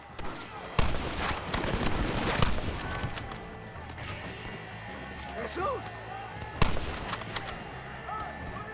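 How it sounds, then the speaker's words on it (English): Gunfire in Red Dead Redemption cracks out in a few sharp, loud shots spaced across the stretch, with a burst near the start and another later, over a busy background of game ambience and occasional movement. "Shoot him in the ass."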